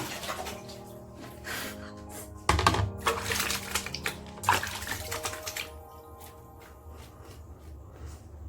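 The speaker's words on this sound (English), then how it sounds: "Let me just wash my hands." Hands being washed under running tap water, with bursts of splashing and rinsing close by that rise in the middle and then fade to a softer trickle.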